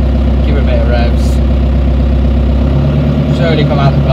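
A John Deere 2140 tractor engine idles loud and close, then rises into a steadier, higher revving drone as the throttle is opened, with someone talking over it.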